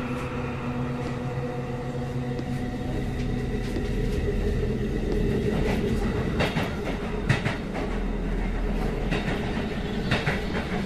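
A subway train runs steadily with a low rumbling drone and rhythmic clickety-clack of wheels over rail joints, loud and close throughout.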